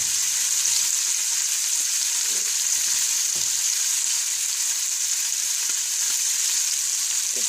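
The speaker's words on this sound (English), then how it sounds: "I'm going to go ahead and add the 1 medium onion." One medium onion hitting rendered bacon fat in a pan for Mexican-style whole beans, a loud continuous close sizzle with faint occasional clinks, no voices.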